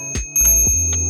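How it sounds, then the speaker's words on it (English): A small handlebar bell on an Ibis Ripley AF mountain bike rings twice in quick succession, bright and close with a short ringing decay after each strike. "you can totally announce your presence in a friendly way with a little bell"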